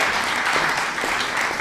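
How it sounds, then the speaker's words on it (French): Theater audience at a stage magic and mentalism show applauding, a dense, steady wash of clapping from many hands, loud and continuous throughout. "on peut l'applaudir, bien sûr"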